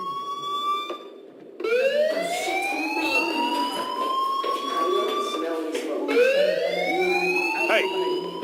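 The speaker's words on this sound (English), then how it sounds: "do you hear that fire alarm? That means you should be outside." Fire alarm in the video game Life is Strange, a loud repeating rising electronic wail that keeps cycling through the clip, with talk and other game sounds underneath.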